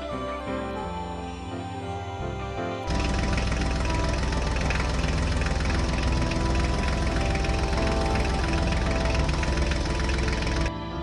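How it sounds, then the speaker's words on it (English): A tractor engine chugs steadily at idle, a dense rumbling drone that jumps louder partway through and continues without talk. "Tractor."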